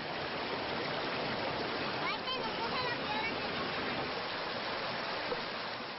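A river flows in a steady, close rush of broadband water noise that stays even throughout, at the spot where a rural family goes down a trail to bathe.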